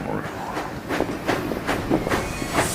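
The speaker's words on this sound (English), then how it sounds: "Thomas and Percy puffed in" Toy Thomas and Percy steam engines on a trackmaster railway puff along with rhythmic chuffing bursts, about six evenly spaced hissy beats over a steady rolling rumble, fairly close and moderately loud.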